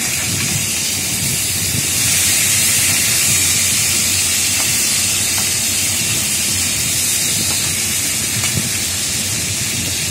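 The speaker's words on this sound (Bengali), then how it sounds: "মাছগুলোকে আমি মচমচে করে ভেজে নেব" Fish pieces fry crisp in a pan, giving a loud, dense, continuous hiss of hot oil that holds steady throughout, close and without talk.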